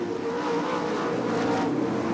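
An IRA Lightning sprint car blasts past out of turn four at a dirt track, its engine a loud, sustained roar across the whole short stretch.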